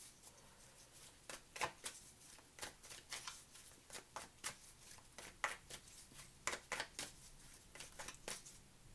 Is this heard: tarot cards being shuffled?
yes